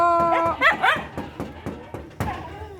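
A dog gives a string of short, sharp barks and yips at close range, some with a whining tone.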